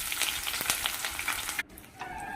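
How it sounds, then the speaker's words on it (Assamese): Onions fry in hot oil in a wok, a close, dense crackling sizzle with light stirring, then a sudden brief drop and the frying resumes softer. "এতিয়া মই পিঁয়াজখিনি ভালদৰে ভাজি ল'ম।"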